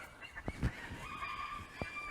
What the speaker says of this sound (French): Mais taisez-vous les canards, on vous a rien demandé